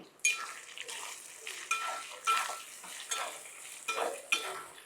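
Small prawns and sorrel leaves stirred in a pan as a curry cooks, with rhythmic spoon strokes scraping and clinking against the metal about twice a second, close and clear.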